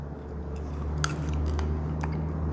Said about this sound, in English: I am gonna sit here and eat my Skittles